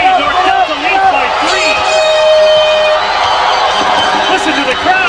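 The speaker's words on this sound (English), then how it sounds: "Listen to the crowd." Dense crowd noise fills a gym in the final minute of a high school basketball championship game, with steady cheering, shouts and whoops rising and falling continuously throughout.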